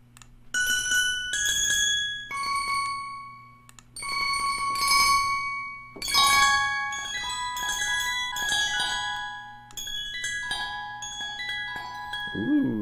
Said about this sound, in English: We're gonna mess around with the Celeste bells